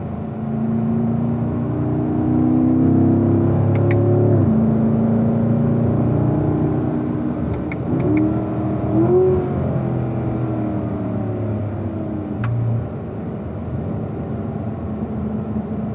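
A race car engine at speed on a track, its tone rising and falling steadily with throttle changes and gear shifts, loud and continuous throughout with no voices.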